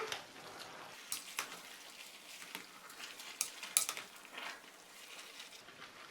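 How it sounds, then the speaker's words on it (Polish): Bigos, a sauerkraut stew with meat and mushrooms, being stirred in a pot: soft wet squelching and scraping, with a few sharp clinks of the spoon against the pot, fairly quiet and close. "Bigos wymieszam."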